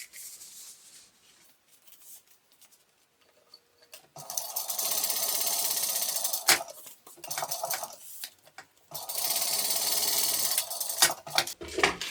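A sewing machine stitches quilting lines on a fabric tote bag panel in two long, steady whirring runs. Quieter handling noises come between and before them, and no one speaks.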